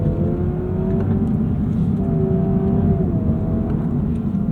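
A Honda Prelude engine revs steadily under acceleration, its pitch climbing and then dropping at several points as it makes simulated gear shifts, loud and continuous with no talking.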